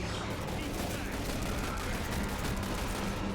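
Rapid gunfire rattles nonstop in The Bureau video game, a dense, loud barrage of overlapping shots with no pause across the short stretch.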